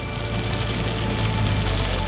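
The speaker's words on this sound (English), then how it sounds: "It's raining like hell and dark as hell." Heavy rain pours steadily at dusk in the waterfall country of Kalutara, Sri Lanka, a dense, even hiss with no breaks and no voices.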